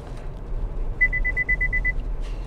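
A rapid series of about ten short, high electronic safety-warning beeps sounds over a low engine rumble inside a Chevy Colorado Trail Boss truck.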